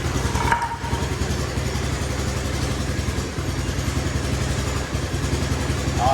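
A Honda off-road buggy engine idles unevenly and lumpily while still cold, giving a close, continuous low mechanical chug with a rhythmic pulsing beat and light clattering, and no talking.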